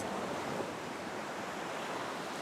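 Steady broadband rush of surf, the continuous wash of Bay of Bengal sea waves on the shore, heard with no voices.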